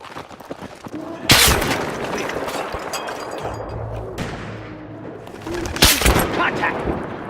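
Heavy 50-caliber machine gun fire in the video game Battlefield 3, with loud booming bursts and rattling volleys amid battle noise, two sharp blasts standing out and voices talking underneath.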